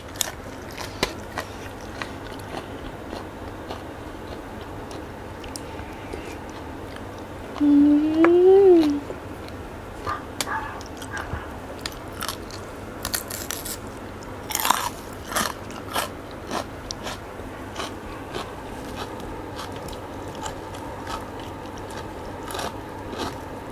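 Someone eating som tam, a papaya salad with crab and fermented fish sauce, with soft intermittent chewing and crunching through a quiet stretch and a short louder burst partway in.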